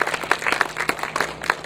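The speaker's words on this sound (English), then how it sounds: "you can clap. Go ahead." Sparse clapping from an audience at a ceremony thanking subcontractors on a Caltrans project, a handful of hands striking in an uneven, fairly close patter with no talking over it.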